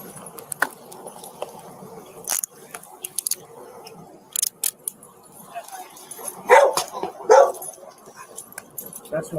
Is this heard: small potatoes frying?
no